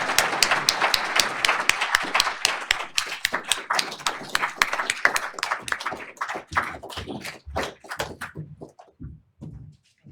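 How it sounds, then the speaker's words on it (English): An audience at a civic event on trusted elections in Georgia claps for a panel of election officials, starting as dense applause and thinning out into scattered individual claps before stopping. "Can we give them a round of applause?"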